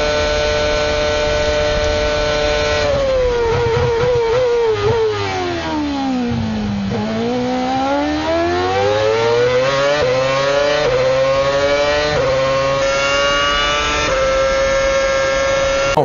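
A Lotus Formula 1 car driven by Kimi Raikkonen at the Belgian Grand Prix screams past on the outside, the loud engine note dropping sharply through a downshift and then climbing again as it accelerates away.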